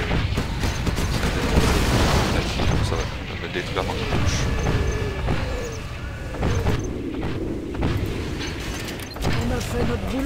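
Artillery cannons firing and shells exploding in the real-time strategy game Command & Conquer Generals, a dense run of loud booms and blasts under someone speaking French.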